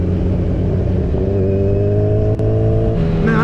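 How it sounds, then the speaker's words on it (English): A Kawasaki Z1000 motorcycle with aftermarket pipes, its exhaust giving a loud, close, deep burbling engine note that holds steady through a short stretch and then rises as the throttle is revved near the end. "Listen to that burble."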